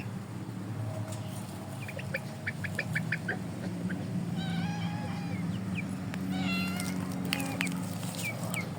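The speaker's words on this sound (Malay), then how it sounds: "Kucing ni kacau ni." A cat meows repeatedly outdoors at a home where shamo chickens are kept, giving drawn-out, wavering calls over steady background noise, with faint bird chirps nearby.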